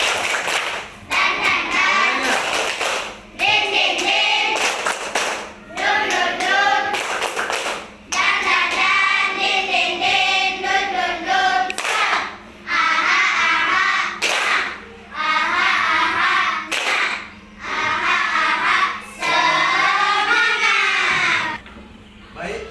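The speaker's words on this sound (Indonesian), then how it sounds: "tepuk semangat." Schoolchildren standing in a classroom doing rhythmic 'tepuk semangat' clapping, repeated patterned bursts of hand claps alternating with chanted group voices, loud and close, with short pauses between rounds.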